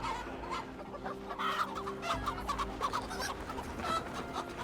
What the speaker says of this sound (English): We're being chased by chickens.